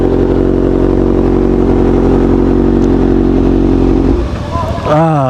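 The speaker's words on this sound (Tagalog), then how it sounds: "Parang bago ako sa motor ko, parang ang ingay." A Kawasaki ZX6R motorcycle engine idles loud and steady up close, then drops off near the end as a voice rises over it.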